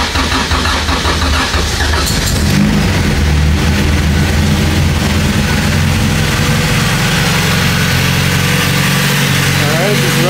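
A Honda Civic EG track car engine starts and settles into a loud, steady idle close by, while a voice talks over it.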